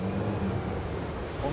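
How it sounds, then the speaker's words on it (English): A SACS Strider 13 maxi RIB pushed by four propellers planes across open water, giving a steady, dense roar of engine, hull slap and rushing spray with wind buffeting the microphone. "With 4 propellers pushing, it begins to plane in an instant."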